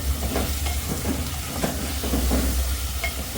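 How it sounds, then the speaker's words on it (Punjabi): Potatoes dropped into hot tadka tempering for an aloo gajar matar sabzi sizzle and fry steadily in the pan, a continuous loud hiss with faint stirring scrapes. "ਤੜਕੇ ਦੇ ਵਿੱਚ ਅਸੀਂ ਆਲੂ ਪਾ ਦਈਏ"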